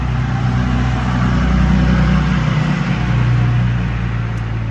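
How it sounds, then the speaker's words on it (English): A truck passes close by on a road, a loud steady engine rumble and tire noise holding throughout with a slight swell in the middle. "I want to let this truck go by."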